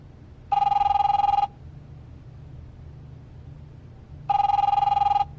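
Telephone ringing in the video game The Wolf Among Us, two loud electronic rings about a second long each, separated by a few seconds of low background hum.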